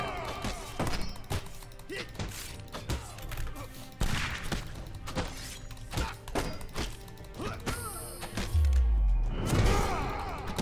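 Rapid bursts of enemy gunfire in the video game Hand of Fate 2, sharp repeated shots and thuds in quick irregular volleys over game music, with a heavier impact near the end.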